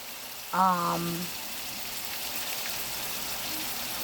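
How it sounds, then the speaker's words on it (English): Pepper steak browning in a hot frying pan gives a steady, even sizzle that runs the whole time, with a short voiced sound rising briefly near the start. "So I'm browning the other side, one side first and then the other side."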